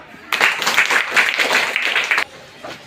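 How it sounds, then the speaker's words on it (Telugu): Schoolchildren in a Telugu classroom clapping together in a short, lively burst of quick, dense claps that stops abruptly, leaving the room quiet. "క్లాప్స్ రా"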